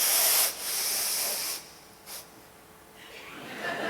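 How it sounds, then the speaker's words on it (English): A man demonstrates deep breathing at a church talk, drawing in a long breath and then short extra sips of air, heard as close, breathy hissing inhalations that fade between bursts. "then you try and take in 2 more sips of air."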